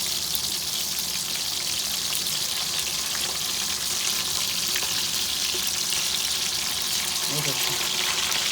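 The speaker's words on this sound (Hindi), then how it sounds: "हमने 2 मिनट तक अच्छी तरह इनको तलने दिया और मीडियम आंच पे थी" Keema kababs fry in oil over a medium flame, a dense, even sizzle and crackle running the whole time, close and loud, with a brief soft knock near the end.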